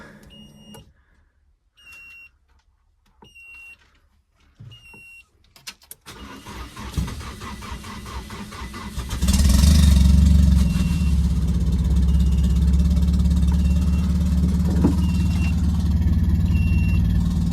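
Beeping chimes and quiet rattles give way to a big-turbo Nissan Silvia S14 engine cranking and catching on a fresh battery, then settling into a loud, steady, very low idle close by.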